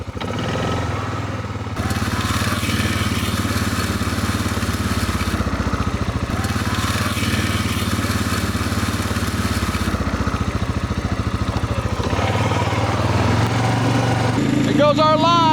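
A tractor-driven lime spreader with its spinner wheels running, a loud continuous engine drone with whirring that holds steady for most of the stretch, out on a hilltop field.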